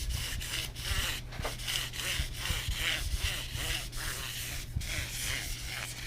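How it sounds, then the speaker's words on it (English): Fine-grit sandpaper wet-sands a vintage fly rod back and forth in quick, even strokes, a soft rhythmic scratching heard close up with no talking. "Just give it a light sanding."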